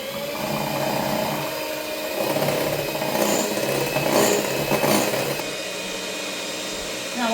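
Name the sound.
electric whisk beating eggs and golden caster sugar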